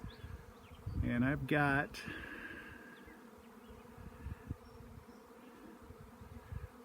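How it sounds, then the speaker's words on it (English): A honey bee swarm gives off a steady low buzz that runs beneath the whole stretch, with a brief spoken phrase close by near the start. "So here's my swarm."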